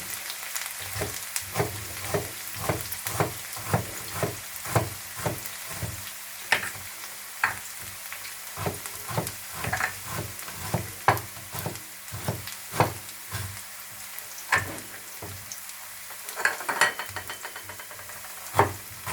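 Finely chopped onions fry in a pan of Pakistani-style tawa keema while a spatula scrapes and taps the metal in a steady, uneven rhythm over a low sizzle, close and moderately quiet, with no talking.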